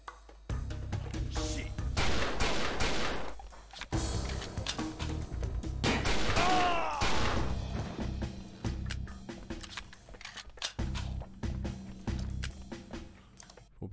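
Gunfire in the shooter game XIII, with loud sharp bursts of shots in clusters across the clip, mixed with game effects and background noise.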